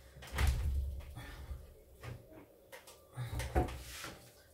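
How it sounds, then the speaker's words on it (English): A door is opened indoors with a few dull knocks and thuds, the loudest near the start and another pair toward the end, close by and fairly quiet, with faint room noise between. "Now I've opened the door."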